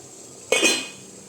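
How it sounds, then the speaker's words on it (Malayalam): Lid lifted off an idli steamer pot, a single short metallic clank followed by a brief rush of fading sound, otherwise quiet. "ഇഡ്ലി പാത്രം തുറന്നു നോക്കാം കേട്ടോ"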